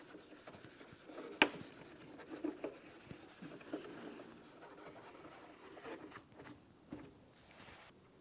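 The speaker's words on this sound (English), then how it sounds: "let's go ahead and wipe it down so it's clean and free of any debris" A cloth wipes down the third brake lamp assembly of a 2002-2005 Ford Explorer. The quiet, close rubbing strokes come in uneven bursts, with one or two sharper scuffs.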